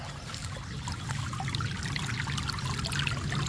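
Irrigation water mixed with dissolved humic runs into a field channel for a cumin crop, a steady close trickling and splashing flow that holds even from start to finish.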